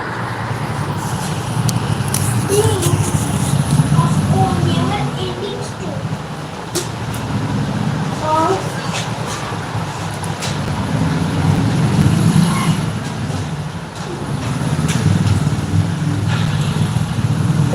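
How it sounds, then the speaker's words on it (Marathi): Road traffic passing nearby, a continuous low rumble of vehicles rising and falling in waves, with a person talking over it. "तर गाड्यांचा आवाज लईच येत आहे"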